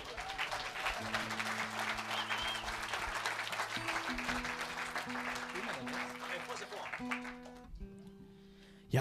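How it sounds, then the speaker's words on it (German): Audience applause at a live jazz club concert, sustained dense clapping over sustained band chords, fading out near the end. "auch einen herzlichen Applaus nochmal"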